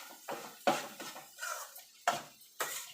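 A spoon stirs egg bhurji in a pan with a series of separate scraping clinks, about six strokes in an uneven rhythm, close and fairly clear.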